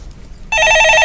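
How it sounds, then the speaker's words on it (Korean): A telephone starts ringing abruptly with a loud, continuous electronic bell trill, close and alone after a moment of near silence. "예, 전화 받아보겠습니다."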